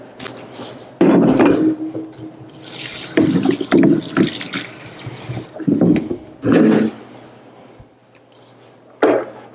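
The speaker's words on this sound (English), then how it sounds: "we're going to get a little cool water in there" Cool tap water runs into a salad spinner holding lettuce, coming as irregular splashing gushes and trickles with short pauses between bursts, close up and fairly loud.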